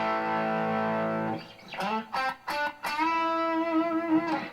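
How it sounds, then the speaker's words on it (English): An electric guitar played through a Blues Driver overdrive pedal gives a mildly gritty, bluesy tone, with a held chord, a few choppy staccato stabs, then another sustained chord, loud and close with no talk. "I also use a blues driver pedal so that I can get that, you know, bluesy, overdriven tone"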